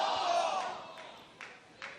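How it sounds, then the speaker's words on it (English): A sold-out wrestling arena crowd roars and murmurs, the noise loud at first and then easing, with a couple of short bursts of shouting rising from the mass of fans. "Sold out crowd here tonight."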